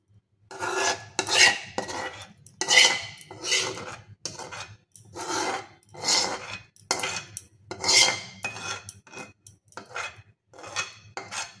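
A date-palm jaggery mixture is stirred in a pan with rhythmic scraping strokes, about a dozen rasping sweeps with short pauses between them. The utensil grates close and clear against the pan with no talk.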